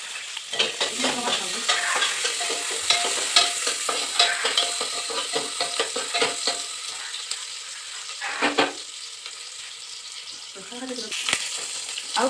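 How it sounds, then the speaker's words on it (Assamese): Onions fry with a crackling sizzle in a pan and are stirred in repeated scraping bursts, with brief pauses, close and moderately loud, while a voice speaks at times. "পিঁয়াজখিনি এতিয়া আপোনাৰ ৰঙচুৱা হোৱাকৈ থৈ দিওঁ"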